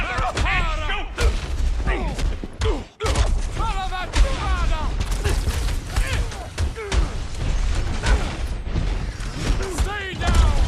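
Gunfire and mechanical clanking from shooting enemies in Marvel's Guardians of the Galaxy, steady combat noise under frequent character dialogue and shouting throughout.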